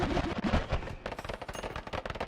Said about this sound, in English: I think the gun shoots so fast that it's broken the audio of the game.